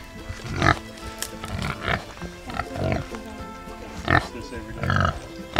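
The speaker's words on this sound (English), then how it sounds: "Pigs on a blanket." Pigs grunt and oink in short bursts on a farm, close by, while people talk over and between the sounds.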